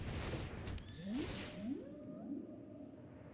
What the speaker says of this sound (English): Then we play the Star Breach Whale.